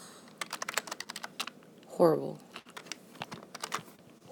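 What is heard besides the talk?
typing on a computer keyboard with long nails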